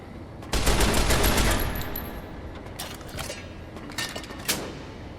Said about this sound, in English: With my shoulder-mounted machine gun.